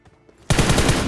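Rapid automatic gunfire in the mobile battle game BGMI erupts suddenly after near silence, a loud, dense burst of closely spaced shots with no voices over it.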